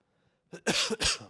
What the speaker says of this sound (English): I got this cough all of a sudden.